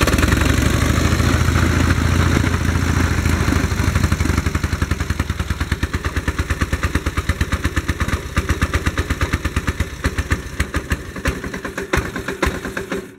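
A 1940 BMW R12 motorcycle engine runs loud and close while fuel starved, with a choked hand-over-carburettor intake. It gives a steady rumbling idle that breaks into uneven, sputtering firing pulses as it goes on, with no talking.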